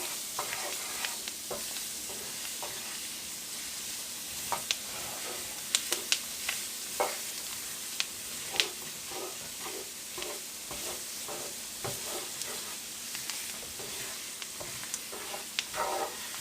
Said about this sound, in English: We're going to cool down the roux with our veggies right here.